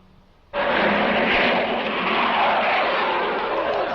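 A C-130 transport plane at an airport, a loud engine roar that starts abruptly and holds as a steady broadband rumble, close and without talk.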